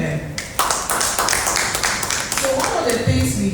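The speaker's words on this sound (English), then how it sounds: "Let's clap for her." Audience clapping at a health training session, a steady wash of claps mixed with room noise and voices, fairly even in loudness.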